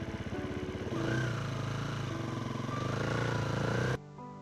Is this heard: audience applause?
no